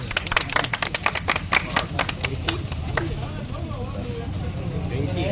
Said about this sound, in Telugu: అందరు జోరు క్లాప్స్ కొట్టండి బా.